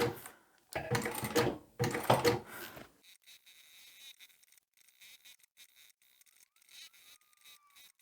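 A home sewing machine back stitching a fabric playing card holder: a few loud bursts of rapid motor-driven stitching in the first three seconds, then quiet clicks and handling noises.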